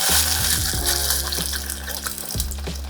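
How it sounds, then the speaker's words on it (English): Tomato sauce pours and gushes into a hot pan of roasting garlic, a continuous wet, bubbling rush close up with no talking. "now I'm gonna add my tomato sauce"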